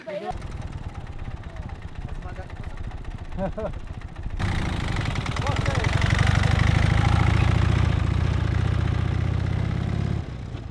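A motorcycle engine runs on the Pamir Highway in Tajikistan, idling softly at first, then jumping to a louder, steady low rumble for several seconds before it cuts back down.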